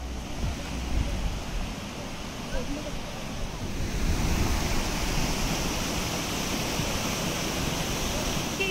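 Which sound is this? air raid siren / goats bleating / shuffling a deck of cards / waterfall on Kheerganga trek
waterfall on Kheerganga trek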